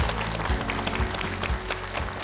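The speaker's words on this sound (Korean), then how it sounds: "야, 박수!" Clapping on a Korean health program after a grandmother's knee recovery, a loud, busy burst with rhythmic low thumps roughly every half second under it.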